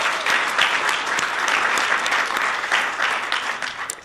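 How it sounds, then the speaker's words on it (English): A crowd claps loudly and steadily for about four seconds, dense applause with no voices over it. "Also, a big round of applause for our fantastic facilitators, Emery and David."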